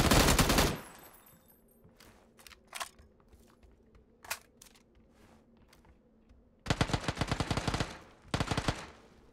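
Gunfire in the battle royale video game PUBG on the snowy Vikendi map: a loud burst opens, isolated single shots follow, then two long rapid automatic volleys close the clip.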